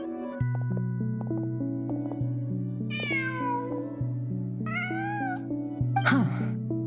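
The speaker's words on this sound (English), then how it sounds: "Just a cat." In a video game, a cat meows three times in quick succession, each cry rising clearly above steady background music.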